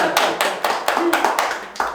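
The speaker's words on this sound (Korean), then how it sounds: "박수 한번 쳐드릴까요?" A studio audience at a Korean arts and culture talk show applauds in a short, steady burst of rhythmic claps, fairly close and without talking.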